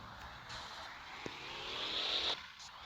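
A BMW i8 driving in a racing video game, with a quiet engine drone and tire hiss rising into a brief higher-pitched whine before cutting off, heard faintly and without talk.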